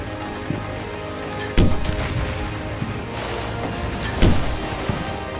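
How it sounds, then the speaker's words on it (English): Mortar strikes in the war game Combat Mission Shock Force during an assault on a Syrian garrison, two heavy booming impacts a few seconds apart over a rumbling bed of distant battle noise. "My mortars strike at long-range assets."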